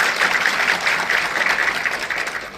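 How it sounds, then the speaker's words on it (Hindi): An audience claps at a district public welfare camp closing event in Kargil, Ladakh, a dense, steady patter of many hands that fades slightly toward the end. "सभी मुझे लगता है एक बार ताली बजनी चाहिए सभी के लिए"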